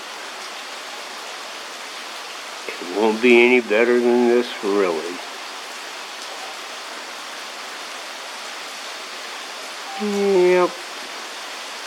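Rain from the first winter storm in Quincy, California falls as a steady, even hiss mixed with traffic noise. Someone speaks briefly twice over it.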